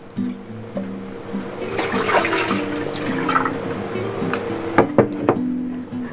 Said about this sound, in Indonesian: Saya masukkan dulu airnya